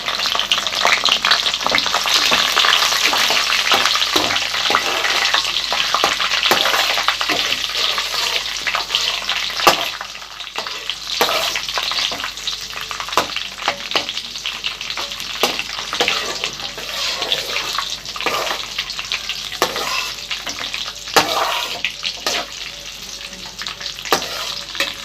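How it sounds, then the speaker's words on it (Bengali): Cashews and raisins sizzle and crackle in a hot pan while being stirred for basanti pulao, a steady close frying hiss with scraping stir sounds and no talking. "এই কাজু কিশমিশটা দিয়ে দিব এর মধ্যে। হালকা ভাজা হবে, বেশি না"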